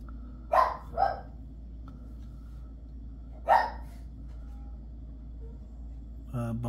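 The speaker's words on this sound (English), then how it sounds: "Don't mind the dogs." Dogs bark in a few short bursts at moderate distance indoors, two quick barks then a single one after a pause, over a steady low room hum.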